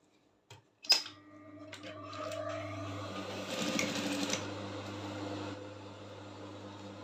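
A sewing machine runs along the seam line of a corset lining, starting after a couple of sharp clicks and then humming in one steady, close whir with a low motor drone underneath; no one speaks.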